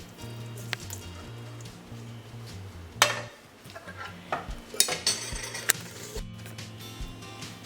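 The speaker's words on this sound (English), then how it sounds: "Now I'm just going to slowly mix my mixture around so it can cool down" Warm choux pastry mixture is stirred slowly in a bowl for chocolate eclairs, producing scattered clinks and scrapes of utensil against the bowl over a low background hum.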